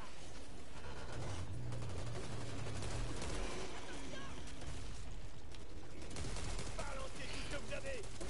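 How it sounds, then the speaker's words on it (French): Pump shotgun blasts in the zombie shooter Back 4 Blood come amid chaotic gunfire and mechanical racking, loud and continuous, with someone talking over the action. "J'aime ce fusil à pompe."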